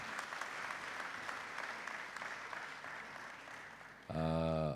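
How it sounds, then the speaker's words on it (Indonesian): Audience applause at an official cultural visit for Indonesia's Minister of Culture in Tabanan, a dense steady clapping from a large crowd filling most of the clip, then cut off by a loud sustained tone at the end. "Boleh tepuk tangan yang keras."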